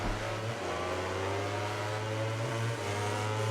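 Motorcycle engines in the video game MotoGP 19 rev on the grid before a race start: a steady, loud, buzzing drone with slight rises in pitch and no speech.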